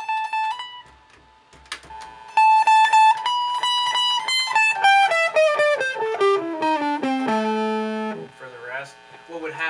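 A distorted, buzzy synth or guitar melody with harmonic-rich tones stepping downward in pitch, played alone with brief gaps, switched in via an FCB1010 foot controller running Ableton Live.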